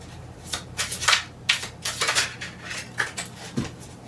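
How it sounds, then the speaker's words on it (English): A deck of tarot cards is shuffled in a quiet room, giving a run of crisp riffling and slapping bursts in close, irregular succession with no talking. "I'm just gonna give it another 3 shuffles."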